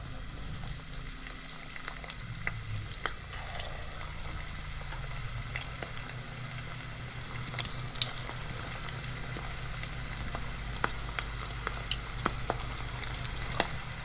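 Jumbo shrimp fry in hot oil at about 350 degrees, giving a continuous bubbling sizzle over a low steady hum, with scattered sharp pops and occasional utensil ticks and no speech.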